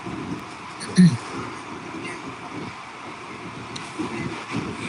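Loud water noise rushes close to the microphone as a constant rumbling wash, with a voice faintly mixed in beneath it.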